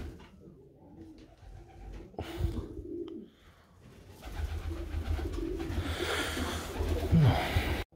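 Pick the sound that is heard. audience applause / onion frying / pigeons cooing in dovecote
pigeons cooing in dovecote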